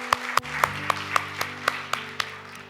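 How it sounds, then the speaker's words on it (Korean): A church congregation claps in unison in a steady, rhythmic beat, about one sharp clap every quarter second, over sustained organ or keyboard chords. "우리 하나님께 감사의 박수를 드리겠습니다"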